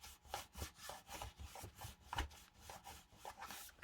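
A hand rubs down the inside of a small wooden box in quick, rhythmic strokes. The scraping swishes repeat about every third of a second and sound close but quiet.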